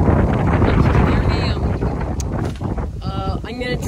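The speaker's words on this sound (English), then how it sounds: "I'm filming it in windy conditions and rain." Strong, steady wind buffets the microphone with a low rumble throughout in windy, rainy conditions in Vietnam, and a few brief sounds poke through near the end.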